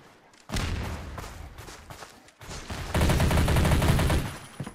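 MP5 submachine gun fire in a Roblox gun game, loud rapid automatic bursts: one burst after a brief pause, a short gap, then a heavier sustained volley to the end.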